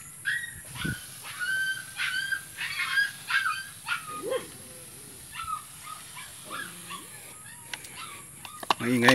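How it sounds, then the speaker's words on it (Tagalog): A dog barks repeatedly at a distance in an outdoor garden. The short, uneven bursts sound alongside other bird or fowl calls, with rain-soaked ambience in the background. "Maingay yung aso."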